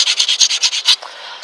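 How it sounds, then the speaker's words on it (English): A grinder smooths down a speaker adapter ring for a Plymouth/Dodge Neon aftermarket speaker swap, giving about eight quick rhythmic rasping passes close up, then a quieter steady hiss. "And to speed things up, I'm going to go ahead and use a grinder."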